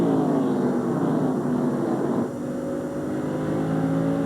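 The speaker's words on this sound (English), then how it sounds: "As we ride along with the Mark Martin Valvoline Ford" Onboard engine of the Mark Martin Valvoline Ford NASCAR race car during the 1999 Pontiac Excitement 400, a loud steady drone with a brief dip in pitch midway as the car holds speed on track, no talking.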